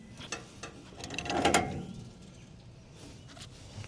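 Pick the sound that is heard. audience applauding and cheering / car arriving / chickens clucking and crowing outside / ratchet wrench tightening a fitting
ratchet wrench tightening a fitting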